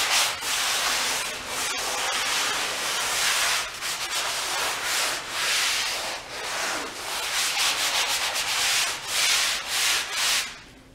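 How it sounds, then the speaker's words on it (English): Steady abrasive rubbing as dry drywall joint compound on a damaged corner is lightly sanded, close and continuous with rhythmic back-and-forth strokes and no talk. "all you want to do is lightly sand off any rough areas"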